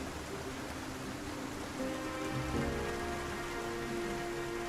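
Steady rainfall in the zombie survival game Project Zomboid patters evenly on a surface, soft and continuous, with a faint low hum joining partway through and no voices.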